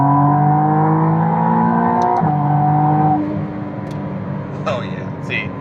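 McLaren Artura Spider hybrid supercar in sport mode, its engine humming steadily with a droning tone that shifts and drops in pitch, loud and close, before settling lower.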